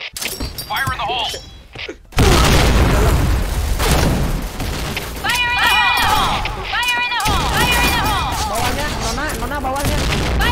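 Explosions and gunfire burst through a shooter video game after a short quiet gap, loud booms and shattering crashes mixed with rapid shots, while players talk over the action.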